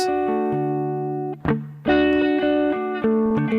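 Sustained guitar chords through a reverb effect with a washy, spacious tail ringing out, separated by brief pick attacks and a short gap; no voices.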